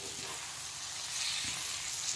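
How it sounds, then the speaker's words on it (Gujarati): Poha is stirred slowly in a pan over a low gas flame, giving a soft steady sizzle with faint scraping, heard alone and fairly quiet. "આવી રીતે હવે પૌવા એમાં એડ કરીને ધીમે ધીમે હલાવતા જશું"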